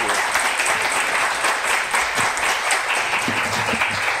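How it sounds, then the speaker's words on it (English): At a poetry event featuring Iranian poetry in translation, an audience gives continuous, full applause, a close and even wash of many hands clapping throughout, with faint voices murmuring underneath. "Another round of applause for Majid."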